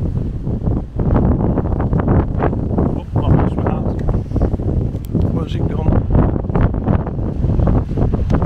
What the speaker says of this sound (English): It's very, very windy tonight.